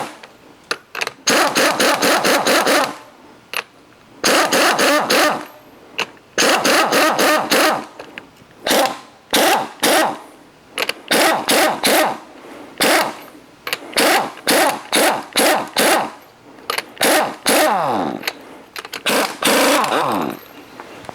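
An impact power tool works a 21 mm strut nut on a 2008 VW Mk5 GTI front strut, sounding in many loud, close, rapid bursts of hammering whir separated by brief pauses.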